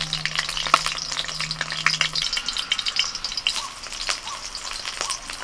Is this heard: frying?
yes